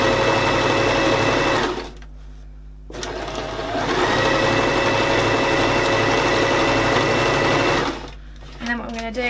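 A sewing machine runs in fast, steady bursts while stitching an envelope cushion cover, pausing briefly in between, then starting again close by.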